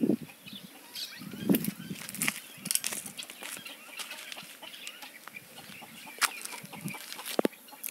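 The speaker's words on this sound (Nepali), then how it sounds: "यो चाहिँ कुन खालको कुखुरा रहेछ होइन?" Chickens cluck with scattered, fairly faint calls outdoors at the edge of a forest, with no talking.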